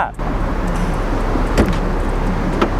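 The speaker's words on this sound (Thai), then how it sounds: "ประตูหลังก็ดูดเหมือนเดิม ใช้ได้ปกติ" The rear door of a 2002 Mercedes-Benz S280 W220 pulls itself shut with a soft-close mechanism, giving a muffled thud and a brief latch click over loud, steady background noise.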